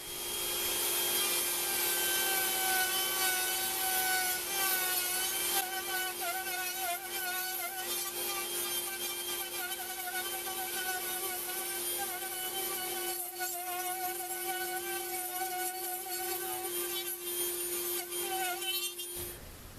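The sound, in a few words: router carving a wooden rotary phone copy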